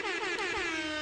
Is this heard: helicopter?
no